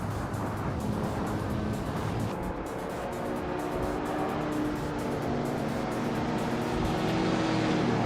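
Several race cars in a racing video game jostle for position, their engines droning steadily and loudly throughout with a continuous roaring hum and no voices.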